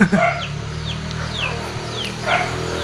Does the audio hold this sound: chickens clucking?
yes